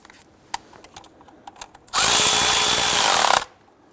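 A power tool runs hard in one continuous loud burst of about a second and a half, snugging down a 13mm bolt on the back of the intake on a 1999-2004 Jeep Grand Cherokee 4.7L V8, after a few light clicks and taps.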